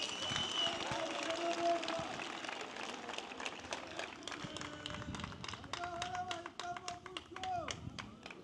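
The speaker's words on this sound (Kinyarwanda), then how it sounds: "Nagira ngo mubampera amashyi tubashimire." An audience at a Rwandan presidential election victory event claps in a dense patter of applause, moderately loud and continuous, with some crowd noise and voices mixed in.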